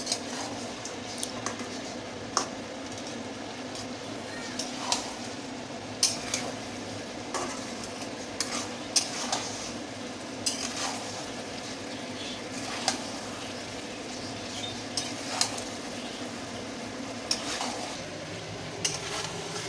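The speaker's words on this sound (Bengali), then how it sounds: "আমরা চিকেনটাকে আবার একটু ভালো করে নাড়াচাড়া করব" Chicken frying in a pan, a continuous moderate sizzle broken by regular spatula knocks and scrapes against the pan every second or two, close and without talk.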